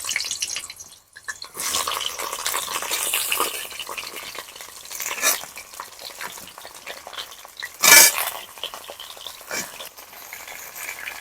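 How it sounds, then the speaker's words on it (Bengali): Pointed gourd slices fry in hot oil, a soft, steady sizzle broken by stirring clatters and one sharp spatter, heard close with no speech. "তেলটা ভালো করে গরম হয়ে গেছে, এবার পটলগুলো দিয়ে দিলাম তেলে।"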